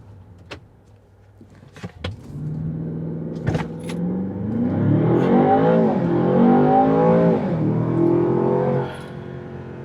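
A Land Rover Defender OCTA launches hard from a standstill, its engine rising to a loud, sustained roar of acceleration after a few brief clicks and knocks, then easing off near the end.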